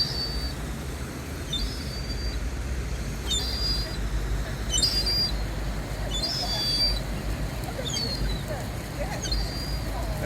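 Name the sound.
seagulls and pigeons mobbing people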